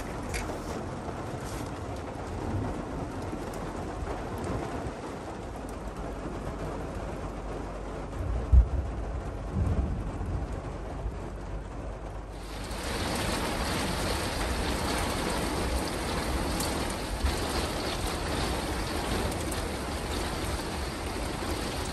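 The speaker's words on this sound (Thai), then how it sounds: "ฝนตกทำอะไรไม่ได้ท่านผู้ชมพวกเราก็น" Rain falls on a camper van during a camping trip, a steady wash of pattering noise that drops quieter for a stretch and then returns fuller and louder, with a few faint knocks.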